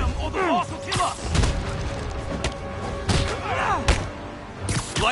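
Rapid bursts of explosions and gunfire crash through a Spider-Man video game battle with Wilson Fisk's thugs, loud booms and thuds repeating across the scene while game voices speak over the chaos.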